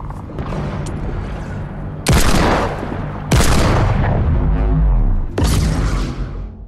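Loud gunfire bursts in Fortnite as weapons, including pistols, are fired at the Mystery Cube, with several sharp booming volleys separated by brief pauses and rumbling in between.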